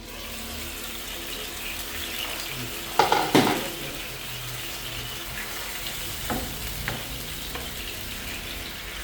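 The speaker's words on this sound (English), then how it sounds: "is that oil popping too much?" Hot oil crackles and pops while food fries in a pan in a Ghanaian home kitchen. A steady sizzle runs throughout, with a sharp cluster of loud pops near the middle and a few smaller spits afterwards, and no one speaks.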